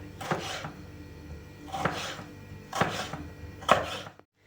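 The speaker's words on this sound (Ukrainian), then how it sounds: "розрізаю навпіл ще раз навпіл і нарізаю ось такими пластинками" Four distinct knife cuts slicing tomatoes land on a cutting board at uneven intervals, crisp and close, with quiet background between them.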